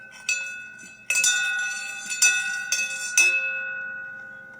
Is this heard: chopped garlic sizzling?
no